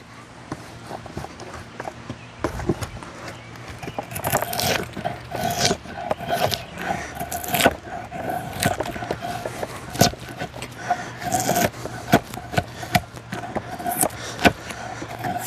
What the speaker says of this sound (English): I want to go ahead and finish debarking this branch first